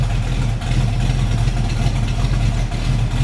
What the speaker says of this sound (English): Hear the rumble out of that 351 Cleveland.